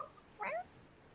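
A person mimics a cat with a single short meow-like vocal cry, close and clear, lasting about a fifth of a second against quiet background.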